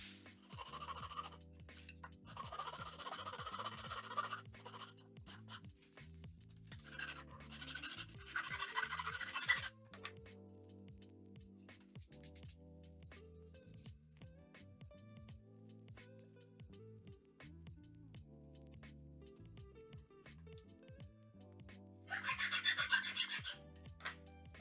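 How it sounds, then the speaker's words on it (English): Metal motorcycle steering head parts being filed by hand: repeated rasping strokes in an uneven rhythm, with louder bursts of filing between quieter scraping, close and alone. "I'm going to file them down now to put them up."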